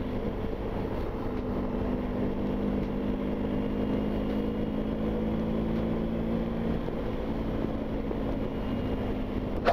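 Steady engine drone and road rumble from a BMW driving along country roads, a continuous, even hum lasting throughout with no clear start-up moment.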